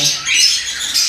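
Pet parakeets squawking and chattering in a steady, high-pitched run of calls, fairly close and continuous with no speech.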